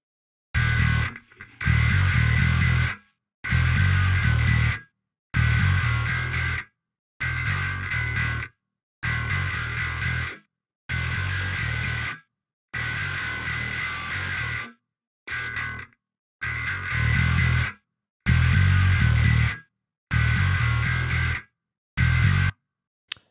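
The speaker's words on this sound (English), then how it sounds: "just with the input control, we have many options on how we want to make the distortion to sound like" Distorted electric guitar played through the Neural DSP Parallax distortion plugin plays repeated chords in bursts separated by silences, the gritty tone shifting in thickness and drive from one burst to the next as the input gain varies.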